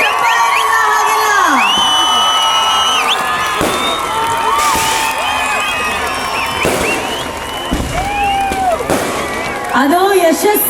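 A large crowd cheers, whoops and claps for Divine Star Rishab Shetty at a public event in Kundapura, sustained loud applause with shouts and a whistle-like cry layered through it, voices mixed in throughout.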